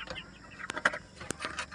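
Chickens on a shamo breeding farm cluck softly at close range, a few short scattered calls and squawks over a quiet background with no talk.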